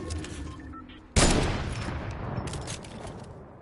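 A single loud gunshot in a video game set in a snowy tundra, a sharp close crack that decays slowly over about two seconds with a faint echoing tail.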